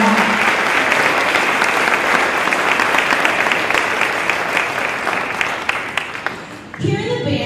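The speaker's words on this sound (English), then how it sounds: "give your students an amazing round of applause for all their hard work" Loud, sustained applause from an audience at a school spring concert, cheering the student band; steady dense clapping that fades slightly near the end as a voice begins speaking.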